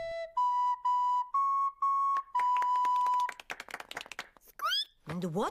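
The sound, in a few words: recorder being played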